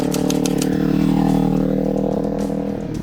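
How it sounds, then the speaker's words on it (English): Motorcycle fitted with a Leo Vince slip-on exhaust idling and running steadily, a continuous throaty engine drone close by for about three seconds, with no talking over it. "I put a Leo Benche slip-on exhaust on there. This thing sounds badass."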